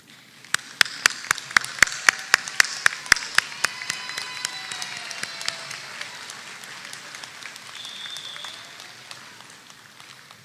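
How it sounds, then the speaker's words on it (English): A commencement crowd at a Washburn University School of Law ceremony breaks into applause. Sharp individual claps come first, then they blur into a broad, moderate wash of clapping that slowly fades. "I invite you, if you can, to stand and applaud those in the audience"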